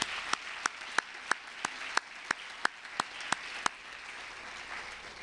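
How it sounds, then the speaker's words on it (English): Faint, sparse clapping from an event audience, a few distinct claps at a steady rhythm that trail off, heard from a distance. "So please join me in giving them a round of applause"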